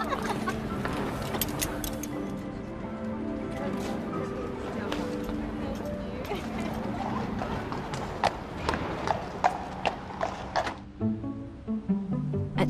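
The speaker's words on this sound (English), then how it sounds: "I'm trying to feed the royal horse." Royal carriage horses at St. James's Palace, hooves clopping in a busy stream of overlapping hits under music, then a few distinct louder clip-clops toward the end.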